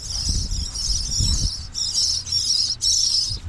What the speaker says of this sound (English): I hear some birds. There's some birds living in here.